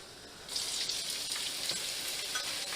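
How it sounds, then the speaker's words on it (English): Diced onion dropped into hot olive oil for risotto bursts into a loud, steady hiss after a quieter start, a close continuous sizzle with faint stirring underneath. "So we got our 1/4 cup of olive oil in there, right around there. We'll put in our diced onion, and we're just gonna soften this till it's opaque."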